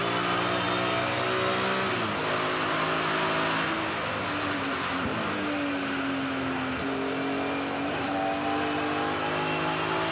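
BMW M3 race car in a Thunder Saloons race at Castle Combe, heard onboard: a loud, constant engine roar that rises and falls with gear changes and revs throughout, with no talk.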